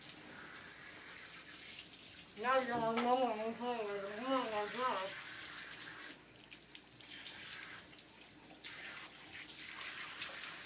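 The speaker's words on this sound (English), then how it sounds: "No one can hear you over the water." Running water from a grooming tub tap at a dog salon flows steadily throughout, with a person speaking loudly over it for a few seconds and quieter voices later.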